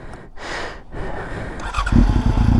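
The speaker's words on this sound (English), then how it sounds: "let's hop up on the bike here. Get a little nice little exhaust note." A motorcycle is started up close, its engine catching after a few short bursts and settling into a loud, steady, throbbing exhaust note.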